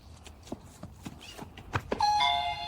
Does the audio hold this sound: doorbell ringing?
yes